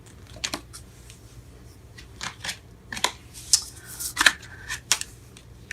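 Oracle cards from a Wisdom of the Oracle deck being shuffled by hand, giving a run of irregular, soft papery riffles and flicks at close range, with no talking.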